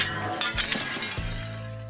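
Glass shatters loudly during a high-speed car crash test, a burst of breaking fragments followed by a sustained ringing tinkle as the pieces settle, with no talk over it.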